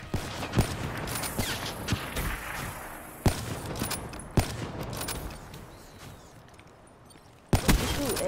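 Gunfire from a Call of Duty: Black Ops match crackles throughout, with sharp, loud shots at irregular intervals over a busy background of battle noise, including a closing burst.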